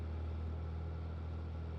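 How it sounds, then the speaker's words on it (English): An old, clunky truck engine idling in Farming Simulator 22, a low, steady, even hum that holds constant throughout, faint and alone. "Leave the engine running."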